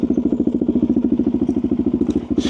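Suzuki DRZ400SM single-cylinder motorcycle engine idling close by with a loud, rapid, even thump, slightly uneven near the end, with no talking over it.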